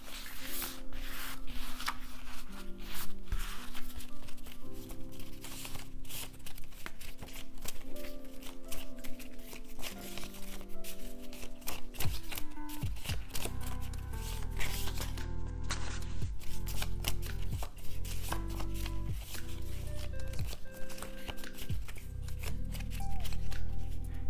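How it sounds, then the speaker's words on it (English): Cards are shuffled over and over in a steady riffling flutter with occasional soft slaps, continuing without pause and with no talking. "we're gonna shuffle them up, just really mix them up, get them nice and mixed up all over"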